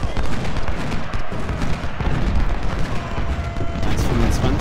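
Repeated cannon and artillery fire from the Civil War strategy game Ultimate General: Civil War, a dense, continuous roar of booming shots and rumbling explosions filling the scene with a voice talking over it.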